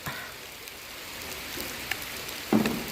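Steady rain patters on a surface in a soft, constant wash, with a few louder drips and a brief thump near the end.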